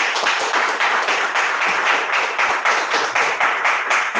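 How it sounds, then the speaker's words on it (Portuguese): A church congregation claps loudly in praise, a dense, steady burst of many hands beating in a regular rhythm that keeps going without a break. "Vamos louvar o Senhor com palmas bem forte para Jesus"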